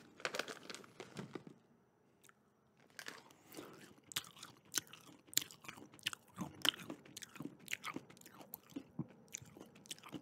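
Close-up chewing of Nerds Gummy Clusters candy: repeated crisp crunches and wet, sticky bites in an uneven rhythm, faint and intimate with no talking.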